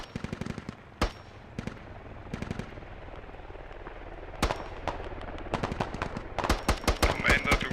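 Gunfire rings out in the video game Squad: sparse single shots give way to denser, rapid bursts of automatic fire toward the end, some crisp and close, others more distant.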